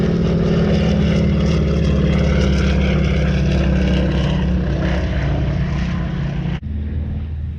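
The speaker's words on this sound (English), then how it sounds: "I got a bi-wing plane out here spraying the cotton today" An old biplane crop duster drones overhead spraying a cotton field, its propeller engine a loud steady roar that holds for about six and a half seconds before dropping off suddenly.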